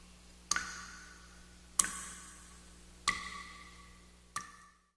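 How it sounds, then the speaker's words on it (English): Water droplets fall onto a basement floor in a quiet room, four distinct bright plinks spaced about a second apart, each ringing briefly before fading into near silence. "all that can be heard is the sound of water droplets making contact with the floor."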